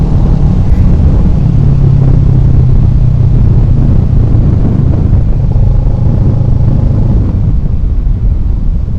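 Kawasaki Ninja 650R motorcycle engine droning steadily while being ridden through corners, a loud continuous rumble with wind noise and slight pitch shifts, no talking.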